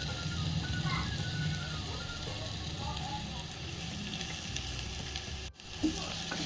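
Chopped onion frying in a pan for a peas curry gives a steady, soft sizzle throughout, with a brief stir or clatter near the end and someone talking quietly.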